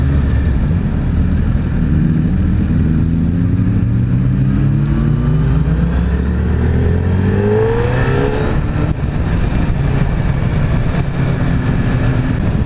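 A 2016 Suzuki Hayabusa with an inline-four engine, ridden in second gear around 4,000 RPM, a steady close engine drone under heavy wind rush, with the pitch slowly rising and falling as the throttle changes.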